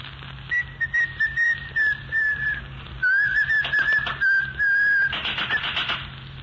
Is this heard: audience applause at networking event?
no